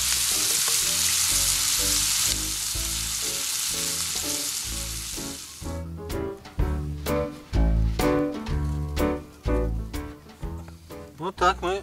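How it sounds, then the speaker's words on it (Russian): Mixed mushrooms, including porcini and birch boletes, fry in a small pan over a camp fire, a dense, loud sizzle that later breaks into crackling spatters, with people talking over it. "Вот жарим грибы в маленькой сковородочке на троих."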